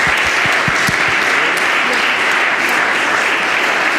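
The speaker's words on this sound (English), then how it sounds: "So a big applause for all the young investigators." Loud, sustained applause from a symposium audience cheering young researchers, dense clapping filling the whole stretch with a few sharper claps near the start.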